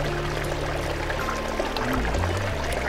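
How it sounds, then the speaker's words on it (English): Water from a mountain spring in a forest pasture ripples and pours in a steady, close rushing flow that carries on unbroken, with no voices. "listening to the sounds of rippling water"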